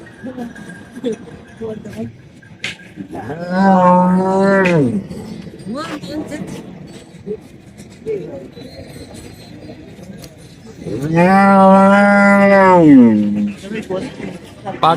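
Two long, drawn-out moos from bullocks rise above a busy crowd of people talking at the Varkhedi bullock market in Maharashtra, with steady background chatter between the calls.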